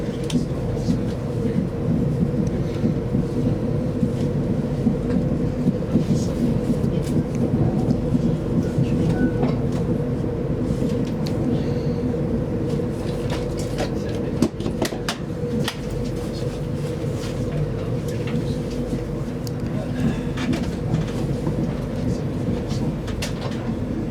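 Steady low rumble of an LNER train pulling out of York station, a continuous loud drone with rattling and a few knocks throughout, heard from aboard the train.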